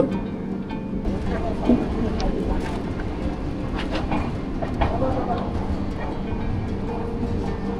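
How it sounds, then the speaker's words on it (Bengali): A Vistadome train on the Araku to Jagdalpur line pulls away, a loud steady rumble with scattered rail clicks and clatter filling the whole stretch, with voices murmuring inside the coach. "ট্রেন আবার ছাড়ল"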